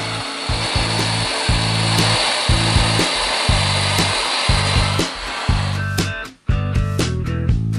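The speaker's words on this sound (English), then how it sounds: "Just warming the bearing removal tool up." A motorcycle bearing removal tool is heated, likely with a torch or heat gun, as a steady loud blowing hiss that is broken by rhythmic bursts of a low mechanical hum and ends in sharp clicks and clanks.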